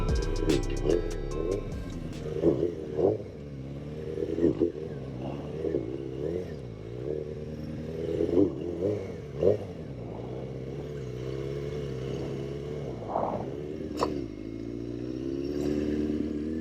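A 636 sport motorcycle does a wheelie at a stunt riding meet. The engine revs repeatedly up and down in rising and falling surges, with a loud, rough exhaust note heard close up.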